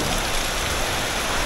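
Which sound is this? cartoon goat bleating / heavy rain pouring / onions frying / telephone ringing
heavy rain pouring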